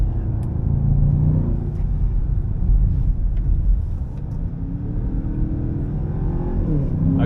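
A tuned 800hp Land Rover Defender OCTA in sport mode accelerates hard on the Nordschleife, its engine a loud, deep, rising roar through the gears with a brief lift before it pulls again.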